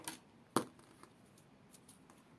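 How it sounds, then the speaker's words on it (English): Scissors snip yarn once, a single crisp close cut after a faint earlier rustle, otherwise quiet. "chain 1 and cut the yarn."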